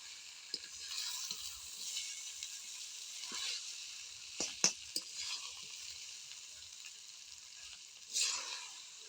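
Flattened rice and vegetables are stirred with a metal spatula in a wok for a vegetable chira khichuri, giving a soft continuous frying hiss broken by a few sharp scrapes and clinks.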